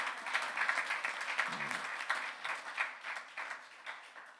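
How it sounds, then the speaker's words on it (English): Audience applause at a public gathering for David Paterson, steady and moderately loud clapping from a crowd, lasting throughout without a break. "Let's give a great applause to our great friend,"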